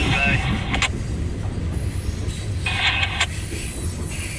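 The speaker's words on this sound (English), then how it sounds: "That's a perfect way to start the day, watching the train before going to run the train." A loaded CSX coal train rumbles past with a steady low roar, faint wheel noise and a couple of brief higher squeals or clanks, while quiet voices talk in the background.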